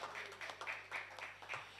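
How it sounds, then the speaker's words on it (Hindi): Audience applause at a Hindi kavi sammelan poetry recital at Raj Bhawan, Hazratganj, Lucknow, heard as a faint, brief patter of scattered clapping with a steady low hum beneath it. "तो एक बार मुझे तालियों से मन दीजिए"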